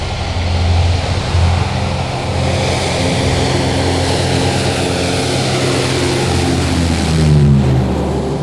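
Lockheed Electra propeller airliner at a northern airstrip, its engines roaring loudly and steadily throughout with a deep droning hum and a slight swell near the end, close and unbroken.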